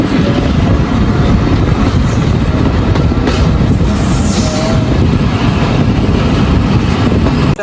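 A passenger train runs along the rails, heard from inside the last carriage as a loud, steady roar and rumble of wheels, with brief metallic squeals rising over the constant noise.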